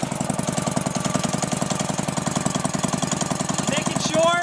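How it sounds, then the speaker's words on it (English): A warm Briggs & Stratton 23 horsepower small engine on a sawmill runs steadily at close range, its rapid, even chugging pulses loud and continuous, with a brief higher whine rising near the end. "So this is just a 23 horsepower small motor. It's a Briggs & Stratton 23 horsepower."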